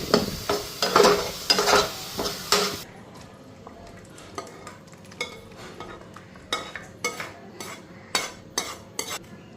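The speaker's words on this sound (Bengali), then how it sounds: "এদিকে ডিমগুলি ভাজা হয়ে গেছে আর এখানে মশলাও দিয়ে দিলাম।" Eggs fry with spices in a pan while a utensil scrapes and clinks against the metal in steady bursts. The sizzle is loud at first, then drops to quieter repeated taps and stirs.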